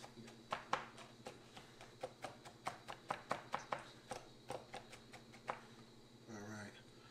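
Fresh garlic is minced with a knife on a cutting board, a quick run of sharp, close, rhythmic chops that comes faintly with a low background hum and a brief voice near the end.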